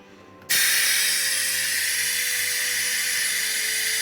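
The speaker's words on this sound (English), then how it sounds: "It uses a little Venturi pump to suck a vacuum through the system" A small Venturi vacuum pump driven by compressed air starts abruptly and runs as a loud, steady, close hiss while drawing vacuum through the coolant system of a Volvo 740 with a D24T diesel engine.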